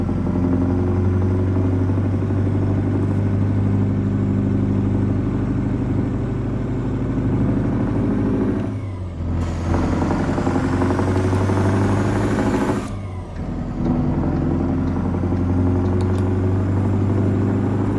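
A loud, steady truck engine rumble in American Truck Simulator idles throughout, with two brief dips where the noise cuts out before resuming.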